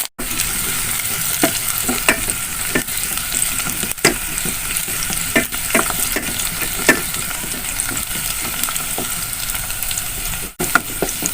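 Sliced shallots or onions sautéing in hot oil in a pan, a steady loud sizzle lasting the whole stretch, broken by occasional scrapes and stirs of a spatula.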